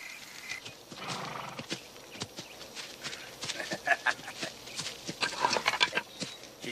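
A horse's hooves clop unevenly nearby while it neighs and whinnies, amid outdoor film ambience with faint background voices.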